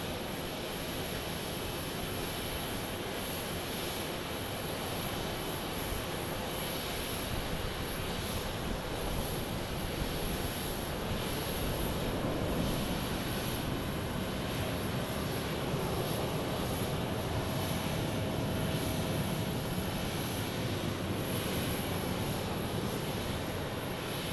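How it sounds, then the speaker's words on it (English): United Airlines Boeing 737 landing at an airport, a continuous broad jet roar that stays fairly steady and moderately distant throughout, with no talking. "It's United Airlines landing here with some 737 action."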